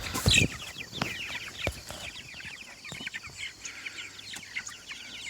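Free-ranging Cornish Cross chickens clucking outdoors, a loud squawk at the start followed by scattered soft clucks and chirps from several birds at close to moderate distance, with no one talking.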